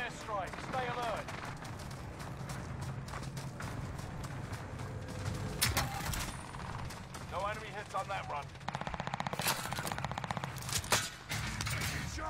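Enemy precision airstrike in the Warzone video game: a run of sharp, loud broadband blasts and cracking bursts in clusters amid steady gunfire-like clatter, with game voices and chatter underneath.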